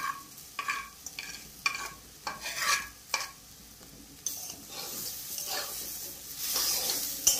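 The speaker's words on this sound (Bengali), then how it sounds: "চুনো মাছ দিয়ে কিন্তু এই কমলি শাকটা আমি আজকে ভাজা করছি" Water spinach greens and small fish sizzle in a pan while a utensil scrapes and stirs in uneven bursts, the frying hiss swelling louder toward the end.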